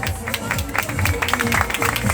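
Crowd applause at an outdoor greased pole climbing contest in Erdek, a steady dense clatter of clapping over mixed crowd noise, with voices talking and calling out through it.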